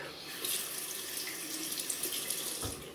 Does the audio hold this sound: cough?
no